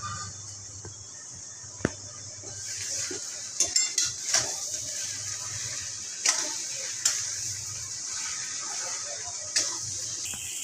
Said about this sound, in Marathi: हे बघा, आपलं पुरण असं परतवायला चालू झालं आहे